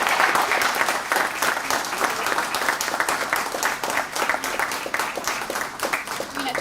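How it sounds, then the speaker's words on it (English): Sustained audience applause from a crowd at a conversation event with mountaineer Samina Baig, dense steady clapping across the whole stretch with no speech over it. "that round of applause"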